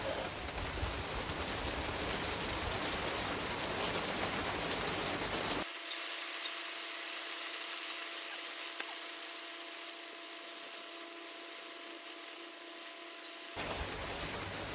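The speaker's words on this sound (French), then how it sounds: "Ah, il pleut un peu." Light rain pattering outdoors around a car repair job on a Peugeot 207 1.6 HDi engine, a soft continuous hiss of drops with a steadier hum in the middle part, no talking.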